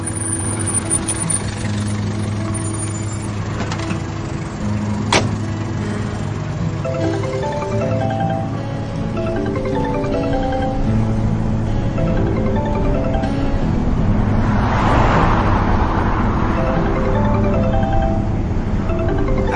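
A taxi engine drones steadily amid street traffic, with low hums and passing vehicle sounds building into a louder whoosh near the end, no voices on top.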